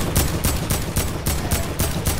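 Rapid bursts of video game gunfire in a rage-filled online match, loud, close and sharply repeated at an even rhythm with no talk over it.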